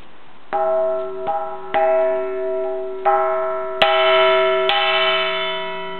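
The largest bell in Karlshamn's church tower, tuned to E1, rings close and loud in repeated strikes, each a bright clang with a long, rich humming decay that overlaps the next stroke.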